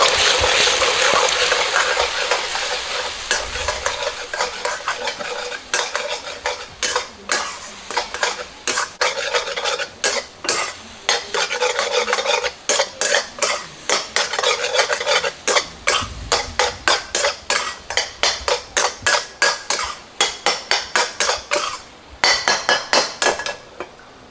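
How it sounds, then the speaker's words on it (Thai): Eggs stir-fried in a pan before dried chilies are added, a loud sizzle at first, then a long run of rapid rhythmic scraping strikes of a spatula against the pan, close up. "เสร็จแล้วก็คั่วเลย"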